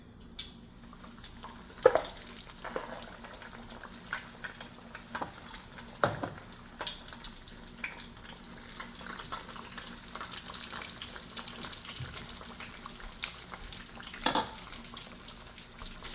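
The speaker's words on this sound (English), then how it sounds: "Now when your cooking oil is making noise like that, from a little splash of water or maybe a piece of batter, you know it's ready." Catfish fillets fry in hot cooking oil with a steady, close crackling sizzle, broken by occasional louder pops and spatters, and no voices.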